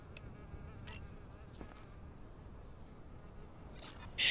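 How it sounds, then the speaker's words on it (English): A fly buzzes continuously and faintly as an in-game sound effect in the video game Quarantine Zone, its thin drone fluctuating over low background hum, with brief clicks and a louder burst at the end. "Weird that there's just the buzzing fly sound with him."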